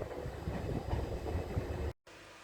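An SWR Class 455 electric train departing towards London Waterloo: a loud, steady rumble of rolling wheels and hiss for about two seconds, close by, then a sudden cut to quieter ambience.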